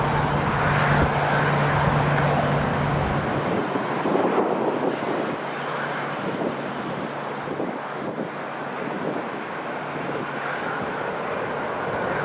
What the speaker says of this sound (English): it's quite a breezy day today. It's quite blustery, as you can see from the windsock